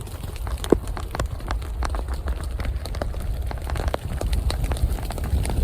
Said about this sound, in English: As you can probably hear, it's raining again.